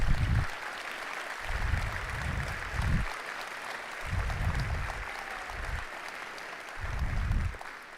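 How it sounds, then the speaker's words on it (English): Audience applause at a robotics competition event, heard as several separate bursts of clapping spread across the clip, moderately loud with quieter gaps between them. "Let's give a round of applause for our coaches."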